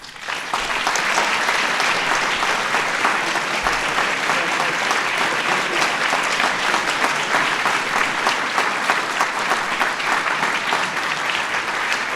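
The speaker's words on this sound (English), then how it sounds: "Let's give another big round of applause to our honorees." Sustained, loud applause from a large audience at a national science and technology medals ceremony, a thick even wash of clapping lasting the whole stretch with no break.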